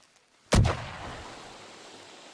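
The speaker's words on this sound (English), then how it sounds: "Was that a firework?" A firework bang in the Western game Red Dead Redemption 2, one sharp loud blast following a near-silent lead-in, then a long rumbling echo that fades out slowly.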